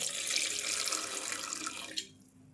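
Water runs from a tap into a pot of tomatoes in a steady close-up stream, then stops abruptly, leaving a quiet room.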